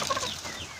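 Chickens clucking and squawking close by in a brief, busy burst, several birds calling over one another.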